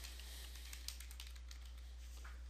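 Someone typing on a computer keyboard, a quick run of light, close key clicks over a constant low electrical hum, with no talking.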